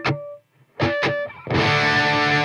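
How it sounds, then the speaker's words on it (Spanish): Distorted electric guitar played through a V30 cabinet impulse response with no reverb: a few short staccato chord stabs with gaps between them, then a sustained, saturated chord ringing loud and close. "Funciona muy bien con distorsión. Voy a ponerle distorsión sin reverb,"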